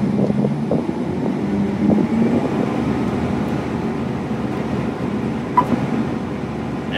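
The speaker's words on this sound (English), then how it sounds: "So I'll go ahead and engage the separator and the header." John Deere S600 combine with separator and header engaged at high idle, a steady loud mechanical drone and rumble from inside the cab, continuous throughout with a brief clunk near the end.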